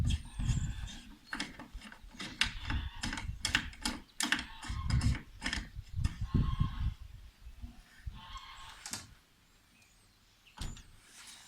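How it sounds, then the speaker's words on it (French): Metal parts click and rattle, with ratcheting turns and scraping, as a locking screw is fitted on a Minn Kota Ultrex trolling motor mount. The sounds are close and irregular and fade toward the end, with no talking. "Et le dernier point, je viens mettre la vis de blocage."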